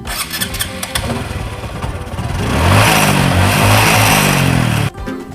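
A motorcycle engine cranks with a burst of starter clatter, catches, then revs up into a loud, close, sustained roar before cutting off abruptly.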